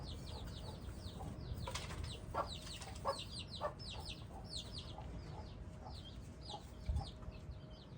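Young chicks on their first outing from the henhouse, with grain scattered on the ground, peep in rapid high repeated calls, many overlapping and continuous, over a low outdoor rumble.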